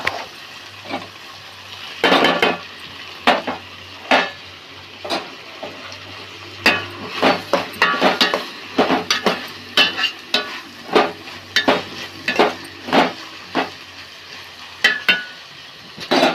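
Ivy gourds and tomatoes fry in a pan while being stirred: repeated scraping, clattering strokes come in irregular bursts over a low, faint sizzle, close and fairly loud.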